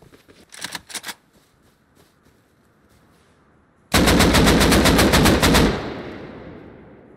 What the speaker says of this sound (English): He just shot a completely straight AK.